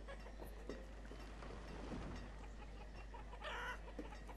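Clucking chickens in the village-building game Banished, steady soft fowl clucks with an occasional rooster-like call, faint and continuous over a low game hum, no talk.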